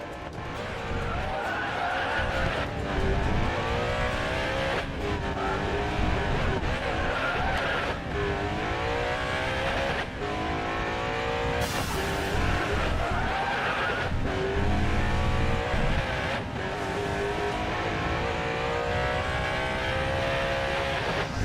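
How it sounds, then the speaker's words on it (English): Lamborghini Reventon racing in the Racing Master game on the Nurburgring, engine revving up and down in repeated rising sweeps with tire squeal, loud and continuous, a voice briefly talking over it. "I can hear the Reventon's engine sound from here."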